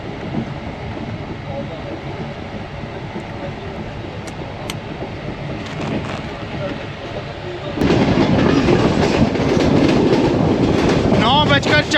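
A Tezgam express train thunders through Dina railway station on the Rawalpindi–Lahore line, a steady rolling rumble that surges much louder and closer partway through, with rattling wheel clatter and a brief horn-like tone.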